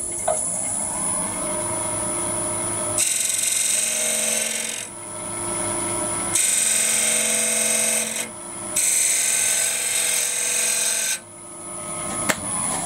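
A lathe turns a workpiece while the tool cuts into it in several separate passes, a steady motor whine overlaid by rasping, scraping bursts that start and stop.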